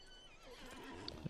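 Horses in stalls within the Lord of the Rings Online game let out a whinny over a soft ambient backdrop, with a brief louder snort or hoof knock near the end.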